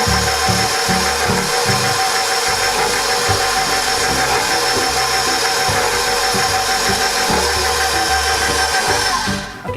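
A kitchen mixer blending banana bread batter with a quarter cup of nuts runs loudly and steadily, with a rhythmic low chugging and knocking throughout, no talk, before it cuts off at the end.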